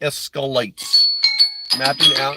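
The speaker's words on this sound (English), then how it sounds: "All right, that's my alarm." An alarm bell rings in a sustained, bright tone running steadily under a nearby voice, which talks over it in short phrases.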